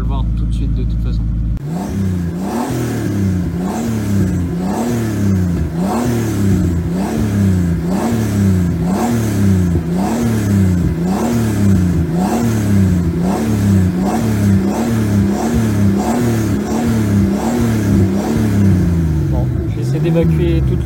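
A turbocharged BMW E46 328i, burning off oil, revs hard and repeatedly, with about twenty loud, evenly spaced rises and falls in an unbroken close-up engine roar.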